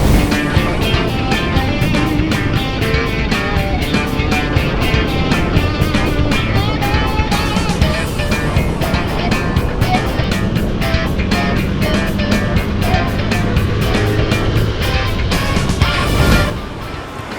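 A ride on an Alva One electric motorbike, rated at 5.7 PS and 46 Nm, with steady broadband wind and road rush that holds at a constant loud level and then drops off sharply near the end.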